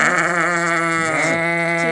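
Sheep bleat loudly and continuously at close range on a farm, a sustained wavering call from the flock that fills the whole moment with no talk.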